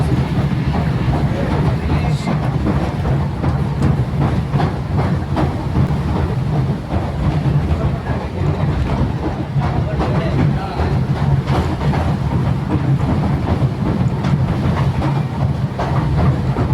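A moving vehicle carries passengers up toward Malanggad, giving a loud, constant, close rumble with rhythmic clacking and rattling throughout.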